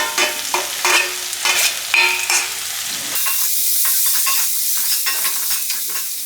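Finely chopped fenugreek leaves sizzle and fry with onions in a pan, a steady close hiss broken by repeated scraping stirs, with no voices.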